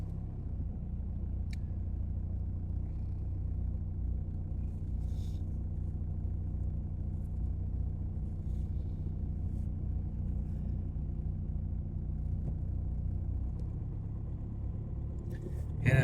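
Low engine rumble from inside a car crawling through heavy Saturday parade-weekend traffic in Pigeon Forge, a steady muffled drone with faint clatter, and a voice talking quietly over it.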